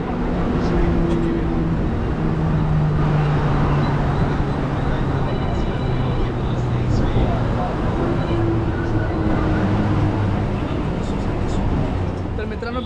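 Inside a moving Mumbai-area local train: a loud, steady rumble and rattle of wheels and carriage runs throughout, with passengers' voices and calls mixed into the noise.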